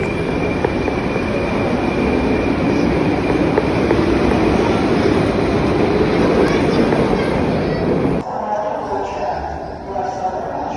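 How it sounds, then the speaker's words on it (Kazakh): Loud continuous rumble and rattle of a Tashkent metro train running, with faint voices underneath, then the noise drops abruptly near the end. "Бір остановкадай метрода жүріп өттік."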